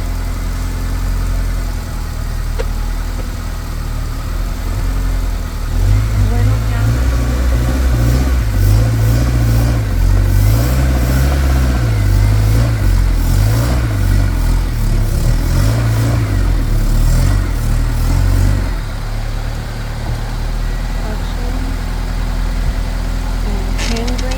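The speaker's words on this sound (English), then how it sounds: "clutch in, first gear, clutch to bite" Manual-transmission car engine idling, then revving in first gear with the clutch at the bite point while it climbs onto car ramps; a loud, uneven rise and fall in pitch through the middle before it settles back to idle.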